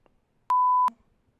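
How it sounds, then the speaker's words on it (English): A single steady censor beep, a pure tone lasting under half a second, cuts sharply over speech in a podcast conversation, with near silence on either side. "I'll beep it out."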